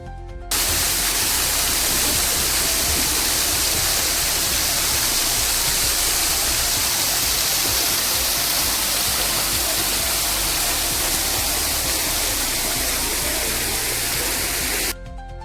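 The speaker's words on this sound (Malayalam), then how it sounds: "മറു സൈഡിൽ വെള്ളച്ചാട്ടവും കാണാനായിട്ട് സാധിക്കും" From a suspension bridge, a waterfall pours in a loud, unbroken roar of spraying, crashing water that fills the whole stretch and cuts off abruptly at both ends.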